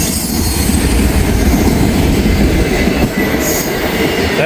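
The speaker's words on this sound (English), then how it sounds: "I think this is the auto rack train that goes to Selkirk, New York" An auto rack freight train rolls past close by, a loud continuous rumble of wheels and rail noise with faint squealing, steady throughout with no horn.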